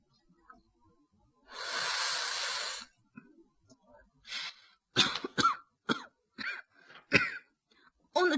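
A man coughs several times in short, sharp bursts while smoking a beedi in a radio drama, after a long breathy exhale of smoke; the room is otherwise quiet.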